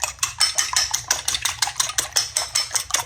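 Eggs beaten briskly for an omelette, a utensil clicking against the bowl in a fast, steady rhythm of sharp, close taps.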